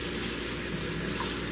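Hot water from a tap gushing steadily while gun frames are washed before painting, a loud, close, continuous rush with no talking.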